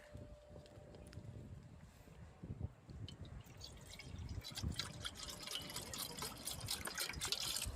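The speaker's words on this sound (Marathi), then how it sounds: "मटण धुवून घेते आता" Water splashing and trickling over raw mutton as it is rinsed in a home kitchen, with dripping and steady pouring that grows louder toward the end, no voices.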